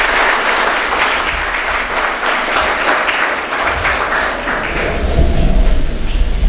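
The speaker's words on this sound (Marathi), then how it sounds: "पुष्पाताईंसाठी तुम्ही जोरदार टाळ्या वाजवल्या पाहिजे" Vigorous audience applause honouring a woman named Pushpatai at a Savitribai Phule birth anniversary lecture, a thick continuous clapping that swells slightly louder with a low rumble toward the end.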